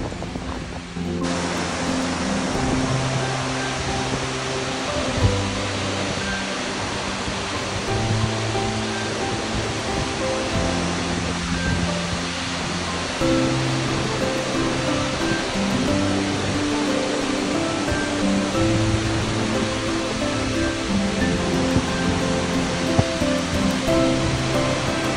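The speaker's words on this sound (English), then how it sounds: "Big old waterfall!" Shannon Falls waterfall heard up close in the spray zone, a dense, steady, loud rushing roar of falling water that continues unbroken throughout.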